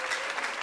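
Applause for a mother at a wedding, a steady wash of hand claps that fills the short moment at a moderate level with no speech over it.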